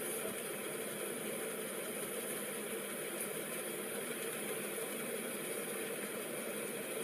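A passenger airliner's engine drones steadily from inside the cabin, a constant, even roar with a low hum and no breaks.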